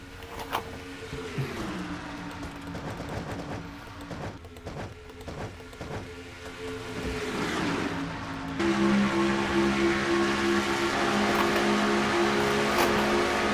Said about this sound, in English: now Boyd's got a full head of steam to the low side now as they come across the start finish line